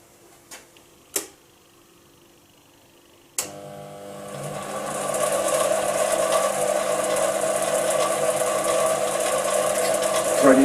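A Chinese mini lathe cutting a left-hand thread: after a few isolated clicks and a sharp knock, the machine starts and settles into a steady mechanical whirr with fine ticking, running alone at close range.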